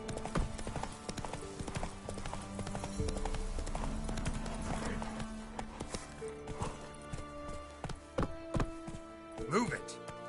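Horse hooves clip-clopping in The Witcher 3 video game on PS5, a steady trotting rhythm of hoof hits with game music and ambience underneath and a short spoken command from a game character.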